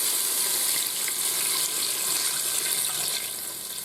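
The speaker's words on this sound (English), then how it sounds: "I'm going to add 2 cups of water" Two cups of water poured into a hot pressure cooker pot holding a frozen chuck roast, a steady broad hiss and splash with faint sizzle that continues throughout and eases slightly at the end.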